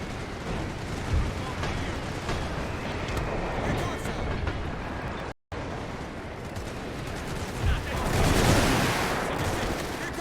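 Video game battle with gunfire and light mortar batteries firing, a dense loud continuous barrage of shots and booming blasts with a brief cut in the middle and a swelling rumble near the end.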